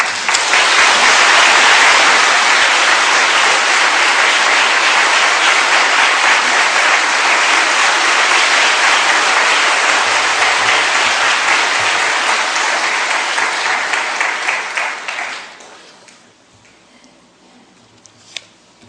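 Loud, sustained applause from a church congregation welcoming a speaker, dense clapping filling about fifteen seconds before abruptly dying away into near silence.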